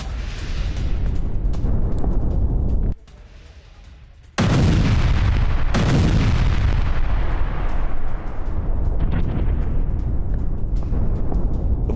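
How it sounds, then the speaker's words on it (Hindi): Israeli missile strikes hit a residential street in Beirut, heavy booming blasts and rumbling debris echoing loudly between buildings, with a brief quieter gap before another powerful explosion. "तो मिसाइलों का जबरदस्त हमला, और देखिए तस्वीरें कैद हुई हैं कैमरे में किस तरह से इस स्ट्रीट के, इस गली के भीतर ये हमला होता है"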